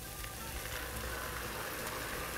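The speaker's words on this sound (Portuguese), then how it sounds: "Já fritou a cebola e o alho." Onion and garlic frying in a pan give a steady, faint, even sizzle that hisses without a break.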